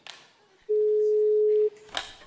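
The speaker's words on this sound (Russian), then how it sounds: "Давай наберем последний вызов." A telephone ringback tone sounds once after a call is dialed, a single steady electronic beep lasting about a second, loud and clear between quieter noises in a KVN comedy stage sketch.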